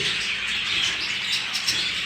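Young budgerigars chatter and chirp in a busy, high-pitched warble, close and continuous for a couple of seconds.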